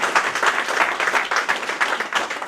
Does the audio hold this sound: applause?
yes